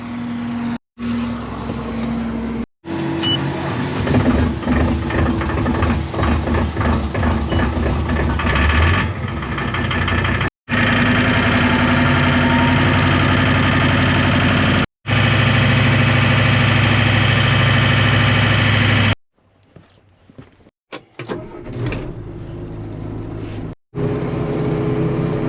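Farm tractor engine idling in a field while starting cold, a steady low rumble near and loud, broken by several brief cuts and a rougher, fainter patch toward the end.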